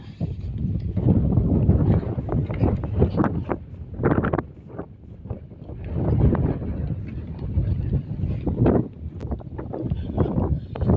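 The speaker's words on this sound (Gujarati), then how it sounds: "આવા નવા વિડીયો જોવા માટે પવન પણ આવે છે મિત્રો. વાવાઝોડા જેવો વરસાદ છે" Strong gusts buffet the microphone in loud, uneven roaring bursts, with a constant rush of storm-like wind and rain underneath, outdoors on farmland in Palitana taluka, Gujarat.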